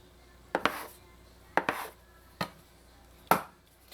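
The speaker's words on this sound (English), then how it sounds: "then you're going to cut your half into 3 pieces" A knife cuts bun dough into pieces on a board, four separate sharp chops, some of them doubled, spaced about a second apart and close by.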